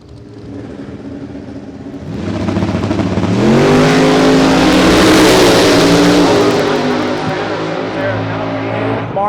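Drag race cars in a 275 small tire class launch and accelerate hard, engines swelling from a rumble into a loud, sustained roar with rising harmonic pitch sweeps, close to the track, with an announcer talking over them.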